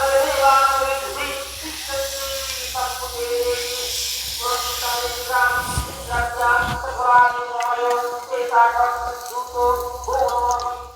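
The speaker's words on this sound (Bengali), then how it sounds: "এইভাবে সব জিলিপিগুলো ভেজে আপনাদেরকে দেখাচ্ছি" Jalebi fry in a small pan of hot oil with a continuous soft hiss and sizzle, while someone talks over it almost the whole time.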